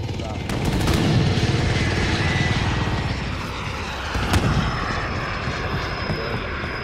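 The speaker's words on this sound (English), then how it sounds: "So is that an airplane or what?" A fixed-wing aircraft roars loudly overhead in Call of Duty: Modern Warfare as a steady, broad engine drone. Gunfire bursts cut through the roar, and a voice talks over the top.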